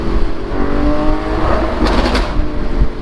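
Lamborghini Aventador SVJ Roadster with a 759 hp V12 engine, droning loud and steady up close with a burst of sharp crackling pops near the middle, and a voice talking over the engine noise.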